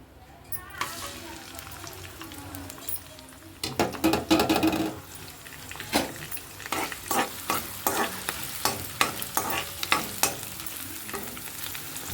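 Curry leaves and onions hit hot oil and fry with a steady sizzle, followed by a run of sharp scraping and stirring knocks against the pan, close and moderately loud; a voice talks faintly at times.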